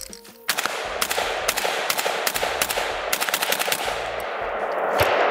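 A VZ58 semi-automatic rifle fires a rapid string of loud, sharp outdoor shots in an uneven rhythm, about a dozen cracks with short gaps, up to the last round of the magazine.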